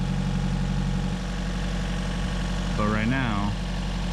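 A 2014 Chevy Volt Ecotec engine with a secondary ignition misfire runs steadily at a loud, close drone, with a brief rising whine partway through and someone speaking over it.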